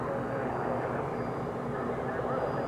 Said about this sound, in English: Chase plane's coming into view as they get quite upwind of us here.